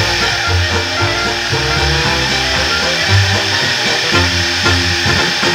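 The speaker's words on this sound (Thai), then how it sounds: "เดี๋ยวผมลองเอามาเจาะกระเบื้องดูซะหน่อยครับ" A power drill mounted in a Kanto KTB-DP-12 drill press stand bores into ceramic tile, a loud, steady motor whine with grinding, rhythmic chatter throughout, close and continuous.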